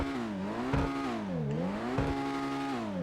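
Synthetic engine of a Benefactor Krieger supercar in GTA Online, stock, revving up and down in smooth waves, with a few short bursts between, steady and close, no voices.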